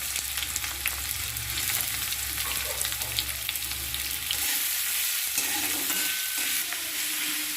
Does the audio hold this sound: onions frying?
yes